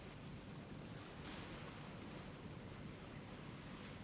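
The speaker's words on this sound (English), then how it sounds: "Listen to the sea." Steady sea surf washing on a beach, a continuous broad rushing hiss with gentle swells and no voices, moderately loud throughout.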